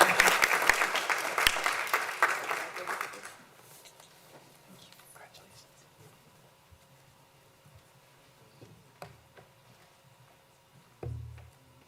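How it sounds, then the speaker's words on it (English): Applause at a school board committee meeting, a loud burst of many hands clapping that fades out after a few seconds, followed by a quiet room with small scattered knocks and shuffles. "Let's give Isabel one more round of applause."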